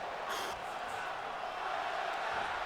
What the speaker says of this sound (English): Crowd chants one more time